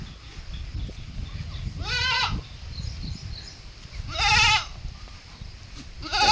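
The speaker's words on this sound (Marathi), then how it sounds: "सगळ्या शेळ्या काही पिल्लं पण आहे त्यांच्यामध्ये" Goats bleat twice on a farm, with a kid's higher cry among them, over a quiet rustling outdoor background.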